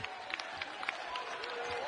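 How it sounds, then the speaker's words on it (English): Basketball arena crowd at a close college game late in the second half, a steady wash of applause and cheering with scattered claps and shouts, fairly distant and continuous throughout. "this crowd coming alive really for the first time today"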